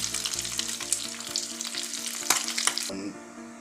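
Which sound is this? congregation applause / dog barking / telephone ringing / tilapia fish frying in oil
tilapia fish frying in oil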